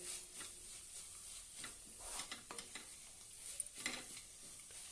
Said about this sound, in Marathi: त्यामध्ये आपण पळी सारखी फिरवत राहूया खालीवर करूया नाहीतर ते मग खाली लागेल